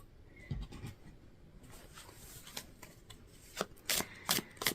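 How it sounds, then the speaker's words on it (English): Tarot cards being shuffled in quick riffling bursts, soft at first and growing louder toward the end, with brief gaps between flurries. "So as I'm shuffling out these cards"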